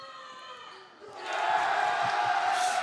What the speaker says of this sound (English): And Loyola is just playfully cheering for Pallotti now.